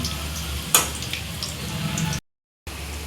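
Potato cutlets (aloo cutlets) shallow-frying in a pan give a steady close sizzle and crackle with a sharp tick near the start, then a brief dropout before the sizzling resumes.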